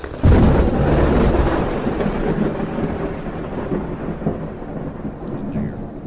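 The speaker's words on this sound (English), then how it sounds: "Lightning struck. Yes, it did." A loud, close thunderclap from a lightning strike in a storm bursts in and rolls off into a long rumbling decay over steady rain.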